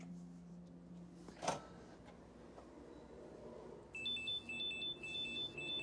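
Security bracelet alarm at a care home door, a steady electronic beeping tone that starts partway through and repeats in short pulses over a quiet room, with a brief knock earlier.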